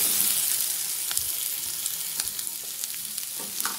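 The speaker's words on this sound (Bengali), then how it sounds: "মাশরুমগুলো আমরা জাস্ট হালকা ফ্রাই করে নেব।" Mushrooms fry in a pan for a rajma mushroom curry, giving a steady, bright sizzle with scattered crackles and pops, close and continuous, with no voices over it.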